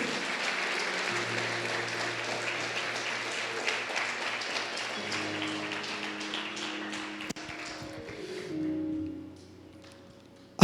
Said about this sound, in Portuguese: aplauda bem forte ao Senhor por isso